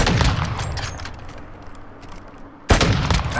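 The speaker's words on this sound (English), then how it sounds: "Oh, I hear gunshots." Video game gunfire rattles in close bursts at the start, fades into a low rumble for about two seconds, then returns with another sharp volley.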